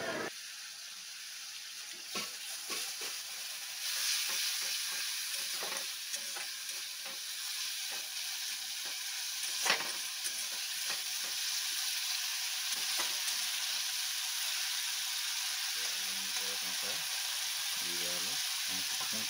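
Snakehead fish curry fries in hot oil in a pan, a steady close sizzle running throughout with occasional scraping stirs of a spatula.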